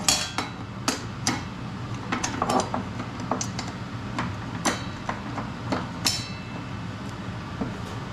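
A wrench clinks and ratchets on the blade nut of a DeWalt DWE7491 portable table saw, giving scattered sharp metallic taps and clicks at irregular intervals, fairly quiet and close, with no talking.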